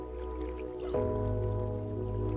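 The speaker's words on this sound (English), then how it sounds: "Listen as the water envelops" Water dripping and trickling steadily in a relaxation soundscape, a dense continuous liquid wash with a low steady hum underneath and a slight shift partway through, no voices.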